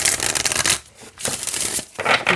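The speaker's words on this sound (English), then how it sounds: "Yeah, it shuffles like the other decks." Close, crisp shuffling of an oracle card deck, with three bursts of rapid papery card flicking separated by brief pauses.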